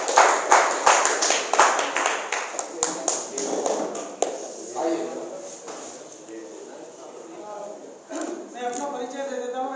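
Seminar audience clapping, the applause heard as sharp rhythmic claps that fade out after about four seconds, followed by someone talking.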